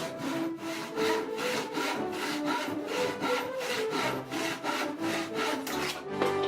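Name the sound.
hand saw cutting wood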